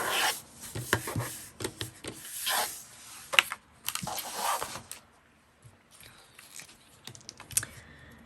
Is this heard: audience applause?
no